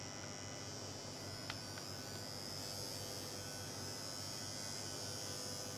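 A repaired Moser electric hair clipper runs at an even speed, giving off a faint, steady high-pitched whine with a couple of tiny clicks early on.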